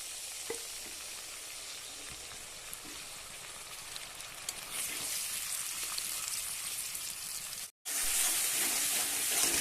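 Poppy seed and green chilli paste fries in a pan with a steady, dense sizzle that swells louder partway through, broken by a brief silent gap, then resumes strongly.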